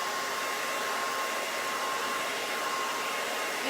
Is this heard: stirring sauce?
no